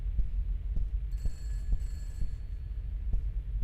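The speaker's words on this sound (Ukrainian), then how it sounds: "Хтось телефонує." A phone rings in an indie horror video game, a faint electronic ring heard in short bursts over deep, throbbing low rumbles and a steady dark hum.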